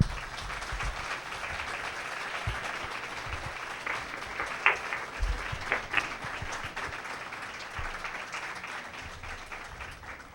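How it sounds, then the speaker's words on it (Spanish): Lecture audience applauding a doctor after a social psychology talk: steady, dense clapping from a crowd lasting about ten seconds, heard at a moderate distance with no talking over it. "le ofrecemos un aplauso al doctor."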